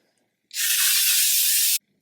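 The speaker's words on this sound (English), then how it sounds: "You just have to spray it and just don't move for like 3 seconds and your makeup will be locked in." A single continuous burst of makeup setting spray, a bright, close hiss lasting just over a second in an otherwise quiet room.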